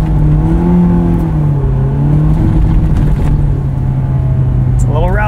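A 2001 Honda S2000 drives on snow, its engine droning loudly and steadily close up, with pitch sweeping as it revs and shifts, and a short squeaky sweep near the end.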